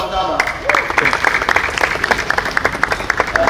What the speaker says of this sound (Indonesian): Kita beri aplaus sama-sama.